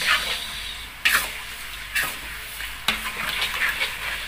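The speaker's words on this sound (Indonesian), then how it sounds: "bumbu tadi digongseng seperti ini ya. Jadi ditumis." Spice paste with candlenut stir-fried in a pan, a soft sizzle broken by three sharp spatula scrapes at roughly one-second intervals, fairly quiet and with no talk.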